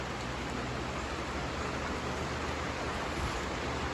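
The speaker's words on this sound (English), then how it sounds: "Just wanted y'all to kind of enjoy the rain" Rain falls on a garden with a high tunnel in a dense, even hiss, steady and moderately quiet with no voices.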